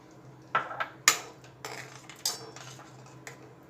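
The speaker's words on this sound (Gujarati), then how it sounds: "હવે એમાં આપણે આ પકોડા એડ કરી દઈશું" Fried singhara-flour pakoras drop into simmering kadhi in a pot for a Navratri fast meal, giving several sharp metallic clinks of spoon and vessel spread across a few seconds against a low kitchen hum.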